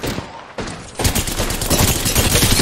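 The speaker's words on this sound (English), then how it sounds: "I am taking fire, friends." Dense video-game gunfire in a battle royale firefight, with a brief burst, a short pause, then sustained rapid shots that stay loud and close throughout.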